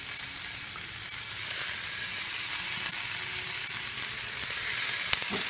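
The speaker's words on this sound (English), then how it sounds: "now we're going to put this fish in this hot skillet" Fish hitting a hot cast iron skillet on a grill gives a steady, loud sizzle that swells when it goes down and keeps crackling evenly throughout.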